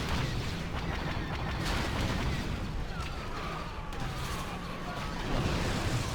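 Dense battlefield din on Dantooine in a modded Star Wars Battlefront 2: continuous rumbling noise with scattered blaster shots and distant booms blending together, no single rocket blast standing out clearly.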